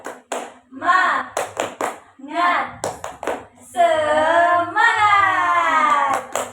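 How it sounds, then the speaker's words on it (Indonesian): Group of schoolchildren and a teacher doing a rhythmic "tepuk semangat" clap routine in a classroom, short bursts of claps between chanted voices, with sustained voices calling out near the end. "Tepuk semangat."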